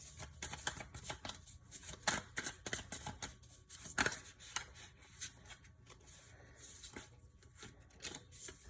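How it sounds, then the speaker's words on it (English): Tarot cards shuffled and pulled from a deck, a steady run of riffling, sliding card noise with sharper slaps and snaps, close and fairly quiet with no talking. "Just a few more cards, please."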